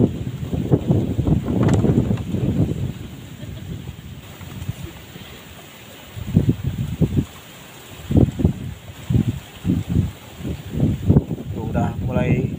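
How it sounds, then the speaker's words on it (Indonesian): Strong gusty wind buffets the microphone outdoors in nature while cooking, low roaring rushes, with people talking intermittently nearby in Indonesian. "anginnya besar sekali teh"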